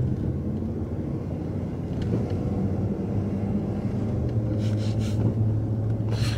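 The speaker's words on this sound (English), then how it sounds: "All we can hear is first and second gear." A car engine pulling uphill in first and second gear, heard from inside as a steady, loud, low rumble with faint higher whines near the end, and no talking.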